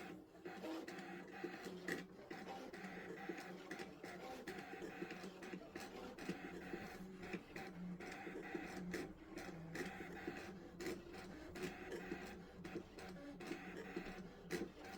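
A Scan N Cut machine cuts flower and leaf shapes, whirring and buzzing in short motorized bursts with small clicks as the carriage shifts, fairly quiet and with no one talking.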